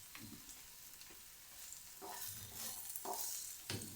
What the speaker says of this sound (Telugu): కొంచెం సేపు ఫ్రై చేయాలి.